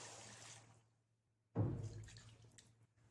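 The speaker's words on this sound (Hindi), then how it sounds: "नेक्स्ट हम इसमें पानी डाल देते हैं।" Water poured into a pot of browned mutton karahi, a short loud splash and gush that starts abruptly after a brief silence, then trails into a softer sizzle; an earlier hiss fades out before it.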